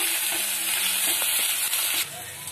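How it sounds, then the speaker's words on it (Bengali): Garlic paste fries in a pan over already browned onions for a prawn curry, giving a close, continuous sizzle with a few faint stirring clicks, and no talking. "এবারে রসুন বাটা দিয়ে দেবো। রসুনটাও ভালো করে ভেজে নেব।"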